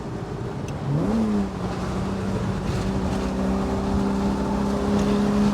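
A 1966 Ferrari 275 GTS engine drones steadily while driving on the road, with a brief rise in pitch as it revs near the start, then holding a sustained, fairly loud hum heard from inside the car.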